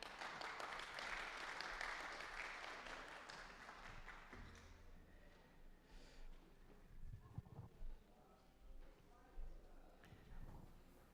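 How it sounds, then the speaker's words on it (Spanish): A church congregation applauds the young people with a burst of dense clapping that thins out after a few seconds, leaving scattered claps and shuffling. "Démosle un aplauso a estos muchachos."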